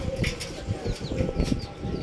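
Home-bred pigeons at a rooftop loft coo in soft, low, repeated throaty pulses amid steady background hum and faint chirps, with no speech.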